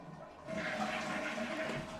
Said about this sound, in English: Is there a good flush?